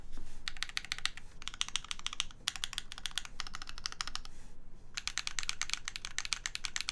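Typing on a modded Savage 65 mechanical keyboard with Holy Polar Panda switches produces crisp, clacky keystrokes in quick bursts separated by short pauses, close and clear with no voices.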